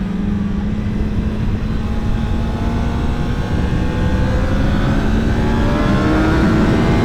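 A 2021 Kawasaki ZX10R engine revs high on a race circuit, a loud, steady, rising whine climbing in pitch as the bike pulls through a straight.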